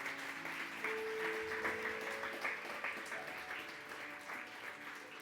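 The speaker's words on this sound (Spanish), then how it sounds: "Regalémosle una ofrenda de palmas al Señor" Church congregation applauding together in a steady broadband wash of clapping, fairly distant and sustained throughout with organ or keyboard tones held underneath.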